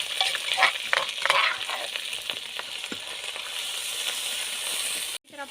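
Cumin seeds and pounded ground spices frying in a hot pan, a steady bright sizzle with intermittent stirring scrapes throughout, ending abruptly.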